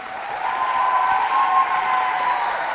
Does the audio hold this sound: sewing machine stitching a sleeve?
no